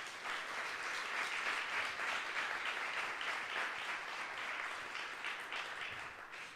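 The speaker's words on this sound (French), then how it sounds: "On les applaudit." A room full of people claps in steady, even applause for several seconds, with no speech over it.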